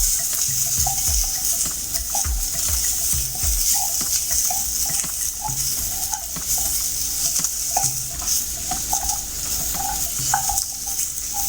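Semolina (rava) roasts in oil for Kerala rava upma, stirred continuously, with a soft steady sizzle and repeated light spoon taps and scrapes against the pan.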